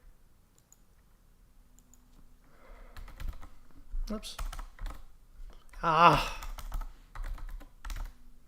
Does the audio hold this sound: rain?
no